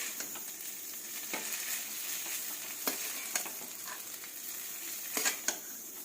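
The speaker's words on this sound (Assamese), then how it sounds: "চাওমিনখিনি অলপ অলপকৈ দি এনেদৰে ভাজি ল'ম" Chicken chowmein noodles are stir-fried a little at a time in an iron kadai, giving a soft steady sizzle with occasional scraping and stirring clicks, quiet and continuous with no talk.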